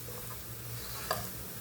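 Asafoetida fries in hot oil in a pan, giving a soft, steady sizzle with a brief scrape of stirring partway through, faint and close.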